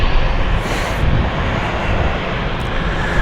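An airliner arriving from Geneva taxis in to its stand at London City Airport with a loud, steady, close engine rumble. The broad noise has a faint whine on top and no pauses.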